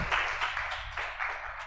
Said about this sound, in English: please give a round of applause to our eminent panelists